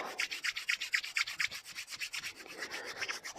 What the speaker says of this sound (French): On va venir frotter les mains ensemble. Donc on fait chauffer les mains.